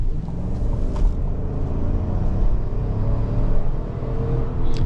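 A 2026 Chevy Tahoe Z71's V8 engine drones steadily at close range with a deep, continuous rumble as the SUV drives, with no talking.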